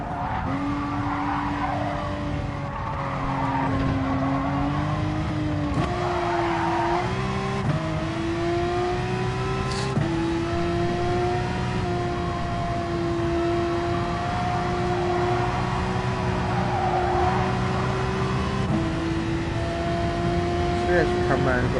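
Race car in a PS4 racing game, its engine droning steadily with pitch shifting through gear changes and tires squealing at times, with someone talking over it throughout.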